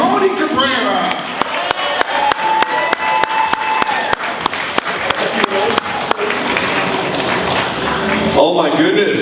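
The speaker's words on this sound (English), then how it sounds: "How about a big round of applause one more time for the amazing Mr. Tony Cabrera." Audience applause at the FAPCCA Media Awards 2024, a Filipino American media event, with a steady crowd clapping throughout, a few sharper claps standing out and a voice speaking over it near the end.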